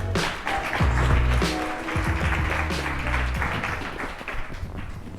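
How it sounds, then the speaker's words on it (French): An audience at an employment club event in La Réunion applauds a guest invited onstage. The clapping is dense, loud and sustained across the whole stretch and fades only slightly toward the end. "Vous pouvez l'applaudir."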